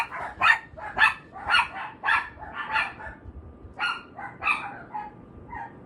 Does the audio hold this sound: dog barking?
yes